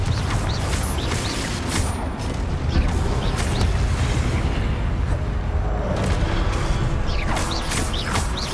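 A Confringo fire-blast spell from Hogwarts Legacy bursts amid dense, rumbling game-combat noise, with crackling impacts and booming low end running steadily throughout.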